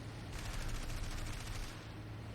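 Rapid bursts of machine gun and cannon fire from aircraft in a War Thunder air battle over medium bombers such as the He 111, a dense continuous rattle lasting about a second and a half over steady engine drone.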